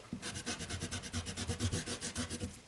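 Rapid back-and-forth scrubbing of an eraser across paper to lift excess coloured pencil, a steady rhythmic rubbing close by with no voices.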